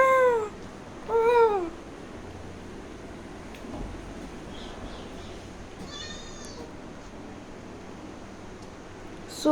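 A pet cat at home gives two clear, close meows at the start, then a softer, higher mew midway, set against a steady low background hiss with no talking.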